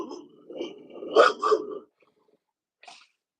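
A person sneezes with a build-up breath, then two sharp, close bursts, followed by a faint short sound after a pause; no talking.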